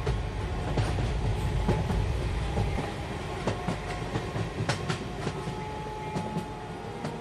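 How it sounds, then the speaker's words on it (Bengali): Cartoon-style sound effect of a moving passenger train: a loud, continuous rumbling roar with rhythmic wheel clicks and clanks running through the whole stretch, with no voices. "কিশোরী টিকিট কেটে আনতে না আনতেই ট্রেনটা এসে দাঁড়ালো।"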